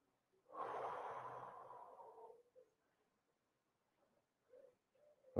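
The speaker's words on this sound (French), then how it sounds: "Une respiration contrôlée, lente et profonde." A single slow, deep exhale breathed close during a stretching session lasts about two seconds, followed by near silence and a few faint soft sounds.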